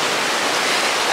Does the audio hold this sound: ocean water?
yes